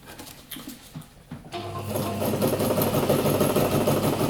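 A sewing machine stitches fabric for a stuff sack, starting after a few soft taps and then running steadily and close, a continuous rapid mechanical whir with no talk.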